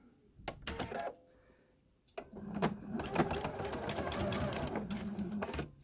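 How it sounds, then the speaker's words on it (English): A sewing machine with a 1/4 inch foot stitches quilt fabric squares for flying geese blocks, running in a short burst, pausing, then whirring steadily again with rapid needle chatter, close and clear. "And you just continue sewing now onto the second piece."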